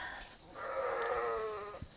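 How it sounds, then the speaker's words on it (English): A sheep bleats once in a long, wavering call at a garden with fruit trees, faint and somewhat distant over a steady outdoor background hum. "Here's my sheep. She's eating my apples."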